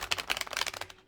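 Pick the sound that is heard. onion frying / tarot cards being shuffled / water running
tarot cards being shuffled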